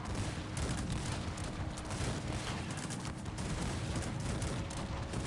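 Dense, continuous crackle of massed musket volleys in Cossacks 3, rolling and overlapping without pause, loud and steady like a distant battle.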